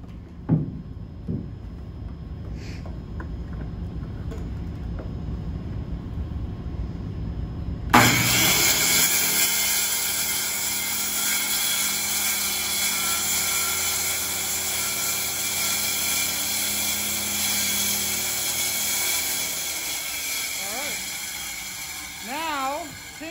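A circular saw starts up and cuts through material with a loud, steady high-pitched whine that runs continuously for about fifteen seconds before winding down, with faint voices beforehand.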